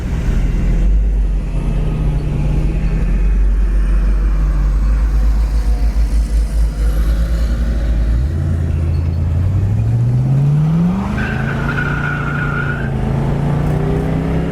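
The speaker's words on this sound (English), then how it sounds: "this car gets right up to speed" A blue 1967 Ford Mustang convertible with a 289 two-barrel V8 pulls hard and loud at close range, its deep engine drone holding steady and then climbing sharply in pitch as it gathers speed.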